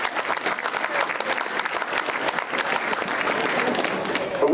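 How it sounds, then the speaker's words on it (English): Steady, loud applause from a crowd at a high school powerlifting national championship, dense clapping sustained throughout with no pauses. "I also want to give a big round of applause to the officials"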